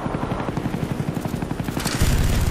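Helicopter rotor in Call of Duty Black Ops, a steady rhythmic low thumping chop with gunfire-like bursts, loud and close, growing heavier near the end.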